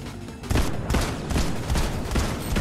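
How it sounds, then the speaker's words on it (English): Rapid gunfire in a video game firefight, a dense loud fusillade of overlapping shots that starts after a brief lull and continues to the end. "They're shooting from the fucking bush."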